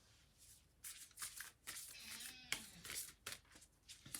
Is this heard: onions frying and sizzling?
no